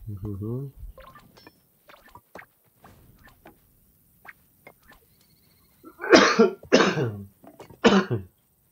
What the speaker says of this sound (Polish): Przepraszam, że tak kaszla, jeszcze chory jestem.